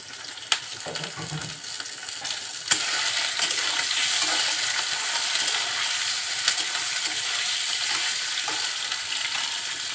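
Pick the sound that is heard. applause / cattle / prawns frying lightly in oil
prawns frying lightly in oil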